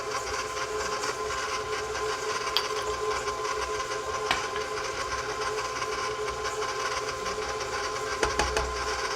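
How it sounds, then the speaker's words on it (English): Electric stand mixer creaming chocolate chip cookie dough at low to medium speed, a steady dense whir with mechanical rattle running throughout, close and fairly loud, with a few brief clanks near the end. "Keep the mixer on low to medium speed."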